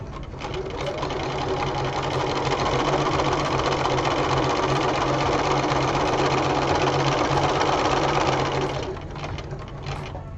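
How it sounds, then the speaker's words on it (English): A sewing machine runs steadily, top stitching rickrack while sewing the hem of a ruffled apron, a close, even mechanical whir with rapid needle chatter that starts and stops cleanly. "We're top stitching the rickrack and we're sewing our hem."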